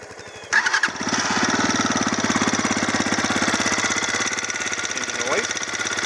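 Lifan Xpect motorcycle engine started up: a brief cranking clatter, then it catches and settles into a fast, even single-cylinder idle, close and loud, with a slight throttle blip near the end.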